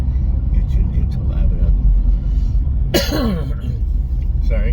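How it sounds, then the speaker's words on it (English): A man clears his throat with a short, harsh cough, loud and close, standing out against a steady low rumble of background noise. "It's less of a chest cough sometimes, and more of a clearing of the throat."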